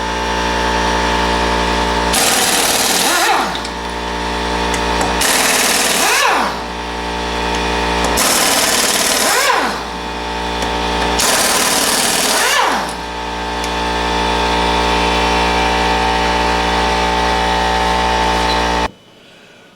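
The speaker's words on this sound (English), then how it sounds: "I'm going to use an impact wrench." Impact wrench removing lug nuts from a Mercedes 300D wheel, four loud rattling bursts of two to three seconds each over a steady loud engine-like drone, then abrupt silence at the end.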